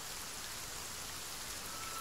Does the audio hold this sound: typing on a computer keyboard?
no